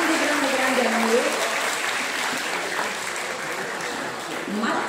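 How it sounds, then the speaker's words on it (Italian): Applause from the crowd at an end-of-year student recital in 2023, as a young guitarist is introduced, a broad continuous wash of clapping filling the room with a voice faintly present underneath. "Quindi un applauso per il nostro grande amico"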